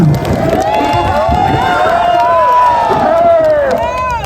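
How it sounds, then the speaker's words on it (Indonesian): A large crowd at an outdoor Labour Day rally outside a governor's office applauds and cheers loudly and continuously, a dense wash of clapping and shouting, with an amplified voice ringing through a loudspeaker above it. "Kita berikan aplaus dan penghormatan yang meriah buat Bapak Kapolda kita."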